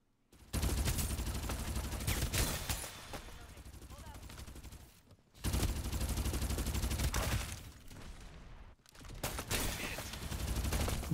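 Video game gunfire crackles in long, dense automatic bursts, loud and close, breaking off briefly near the middle and again shortly before the end.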